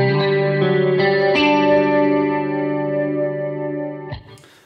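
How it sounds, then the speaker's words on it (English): Electric guitar run through a tri-chorus effect on an Eventide pedal on a worship pedalboard, a sustained shimmering chord with a few restrikes, swirling and wide, loud and alone before fading with a short noisy scrape. "It's a tri-chorus sound."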